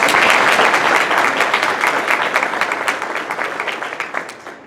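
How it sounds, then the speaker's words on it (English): Round of applause from a seated Rotary club luncheon audience, dense steady clapping from many hands that slowly thins and fades toward the end. "if you would please stand so that we can give you a round of applause"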